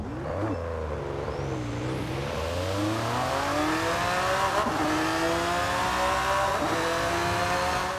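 A Ford Racing GT's 3.6-litre engine in Forza Horizon 5 revs up and down repeatedly, rising and falling pitch sweeps with a steady, close engine drone throughout and no talking.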